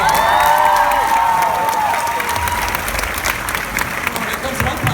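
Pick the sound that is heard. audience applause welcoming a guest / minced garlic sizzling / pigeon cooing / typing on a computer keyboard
audience applause welcoming a guest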